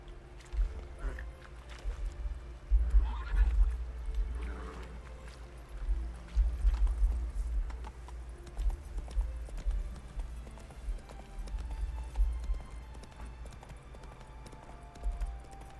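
A horse galloping in the video game Witcher 3, with steady rhythmic hoofbeats rising in loudness in several surges over a low rumbling ground noise.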